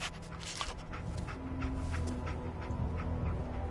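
Dogmeat, the canine companion in the video game Fallout 4, pants and sniffs while tracking a scent, heard steadily throughout over busy game ambience with no talk.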